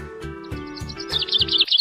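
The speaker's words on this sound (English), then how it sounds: "P is for parrot." Bright, repeated chirping parrot calls ring out over a simple rhythmic children's alphabet song backing, growing louder and quicker toward the end.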